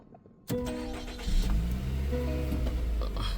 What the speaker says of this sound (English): So we're going to turn the car on.